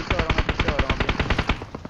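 Rapid automatic gunfire from an online shooter video game: a fast, evenly spaced burst of about fifteen loud close shots, with no talk.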